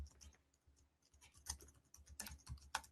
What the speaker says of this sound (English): I will type that in for you as well